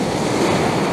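Heavy surf at high tide on a St Lucia shoreline, a steady loud wash of breaking water with wind rumble on the microphone, continuous and close throughout.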